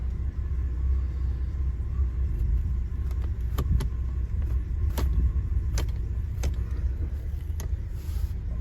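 A Jaguar XJ6 Series 3 engine idles with a low, steady rumble while a stationary car is shifted through the gears, with scattered clicks and light metallic taps from the cabin.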